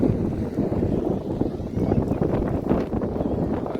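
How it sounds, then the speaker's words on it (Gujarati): Strong wind with rain roars and buffets the microphone continuously, a loud low rumbling gust with no pause, raising dust. "મિત્રો પવન નીકળ્યો એટલે હવે બીજી રીતનો હવે ધૂળની ડમરી"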